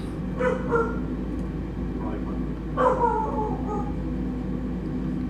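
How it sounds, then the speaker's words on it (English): A pet dog barks and yips at home during a flight simulator session, two short bursts of distant barking over a steady hum of background noise. "Leave it to my dog to start barking right now."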